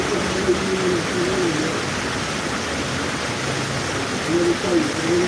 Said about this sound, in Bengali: এই বৃষ্টিটা মনে হয় সর্বত্র জায়গা হচ্ছে